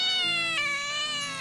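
A cat gives a long, drawn-out meow with rich harmonics, a single sustained, close and fairly loud call with a slight pitch rise midway.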